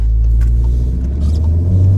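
300bhp Volkswagen Golf R launching from a standstill, a heavy, steady low engine rumble filling the short stretch, loud and close without talk.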